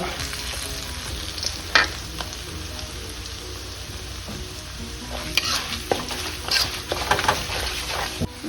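Urad dal, mustard seeds and asafoetida crackle and sizzle in hot oil for a Telugu pickle tempering, a steady frying hiss broken by sharp popping bursts, close and loud with no voices.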